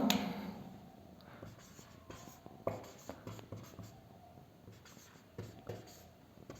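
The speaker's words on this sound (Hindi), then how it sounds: "मैं लिख रहा हूं" Marker or chalk strokes on a board during a maths lesson on profit and loss, a run of soft scratchy scribbles with small taps, fairly close, with faint room noise and no talk over it.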